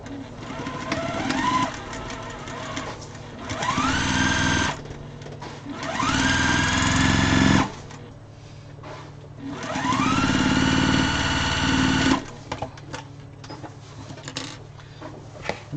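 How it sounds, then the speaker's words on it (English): Running a quarter-inch seam through joined fabric scraps, a sewing machine whirs in three long bursts, each winding up in pitch before stopping, with quiet gaps between them. "So I am going to do 1/4-inch seam."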